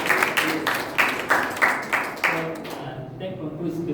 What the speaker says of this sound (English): let's give a clap to them